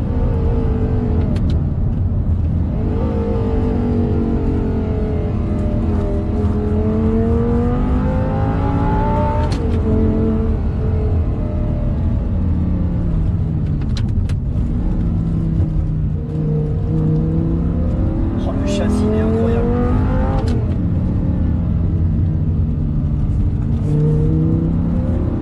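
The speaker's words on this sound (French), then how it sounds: "à chaque passage de rapport, elle fait un petit claque" An Audi R8 V10 with a manual gearbox revs hard through its gears, the engine note climbing steadily, dropping at each shift, then climbing again, loud and continuous throughout.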